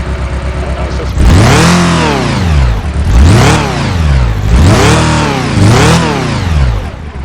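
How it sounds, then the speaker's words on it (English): A car engine in an Electude diagnostic simulator, set up with a lean-running fault and suspected injector trouble, idles briefly, then revs up and falls back in about three rising and falling sweeps, loud and close. "I try to rev the engine up in an effort now to try out injector number 2 on cylinder number 3."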